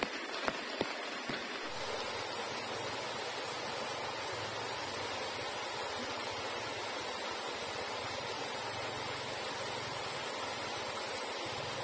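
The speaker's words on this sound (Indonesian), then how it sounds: "Menikmati suasana hujan dan arus deras air sungai." Heavy rain and a fast-flowing river beside a camp shelter, a dense steady hiss of rain and rushing water that stays constant throughout, with a few brief knocks at the start and no talking.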